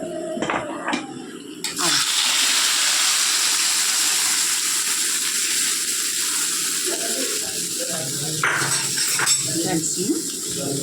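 Kerala chicken stew poured into a dish in a home kitchen, a sustained close liquid pour with clinks of pots and utensils at the start and end, while a person talks.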